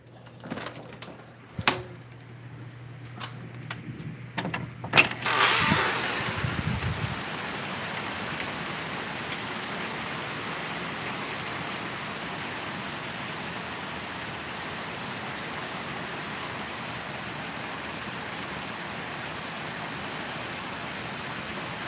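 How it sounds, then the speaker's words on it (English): After a few faint knocks and a door sliding open, heavy rain pours outside, a dense, steady hiss of drops hitting surfaces that stays loud and continuous to the end. "I hear it raining out there."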